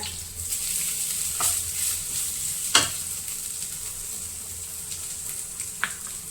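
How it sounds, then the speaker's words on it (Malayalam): Grated coconut stirred and roasted in a pan with cloves and curry leaves, giving a steady soft sizzle with occasional scraping clinks of the spoon against the pan, close and fairly quiet, with no talking. "നന്നായിട്ട് മൂക്കുന്നോളം വരെ ഇളക്കി കൊടുക്കാം"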